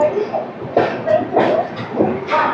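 The Godavari Superfast Express rolls into Visakhapatnam station, with a close rumble of the train interrupted by several sharp bursts of rail and carriage noise spaced about every half second, under an ongoing low mechanical hum.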